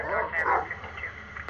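Dog barking in the horror game Silent Hill: Downpour, a short burst of yips and woofs near the start that fades into a low, muffled game ambience.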